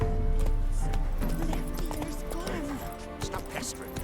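Roach, the horse in The Witcher 3, clip-clops along in a steady hoofbeat rhythm at close range, with a brief whinny and game music and voices layered over it.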